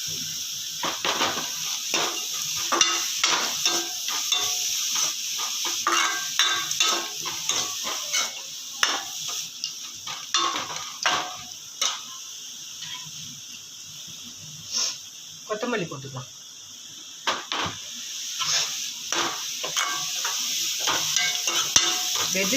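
Carrots go into a pan and are sautéed, giving a steady low sizzle with frequent scraping stir strokes of a spatula throughout, fairly close and alone.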